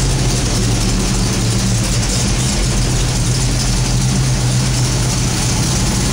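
A 1968 Pontiac GTO engine, freshly installed on a bare rolling chassis indoors, idles loudly and steadily with a deep, even burble that stays constant throughout.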